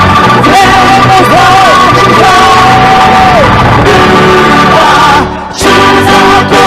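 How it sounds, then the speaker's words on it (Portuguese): A church congregation shouts and whoops together at a loud worship service, a dense roar of many voices over sustained music that briefly dips near the end. "Eu quero ouvir o grito da igreja."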